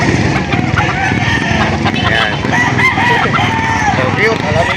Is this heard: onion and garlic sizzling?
no